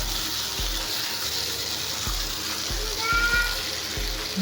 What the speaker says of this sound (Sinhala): සීසන් වෙන තියාගත්ත චිකන් ටික මම මේකට දැන් දාගන්නවා